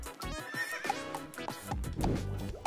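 A horse whinnies in a loud, wavering neigh, followed by snorts and a few hoof clops nearby, with no talking.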